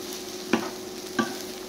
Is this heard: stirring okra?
yes